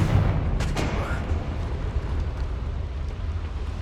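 Confringo fire-blast spell exploding in Hogwarts Legacy, a loud booming blast with a sharp crack near the start followed by a sustained rumbling roar that fades slowly.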